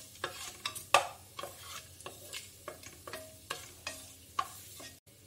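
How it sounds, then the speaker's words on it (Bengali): Whole garam masala spices, star anise, black cardamom, cinnamon and mace, fry in a pan for mutton yakhni pulao, with a quiet sizzle under a run of distinct stirring scrapes at a steady rhythm. "এটা একটু ভেজে নেব।"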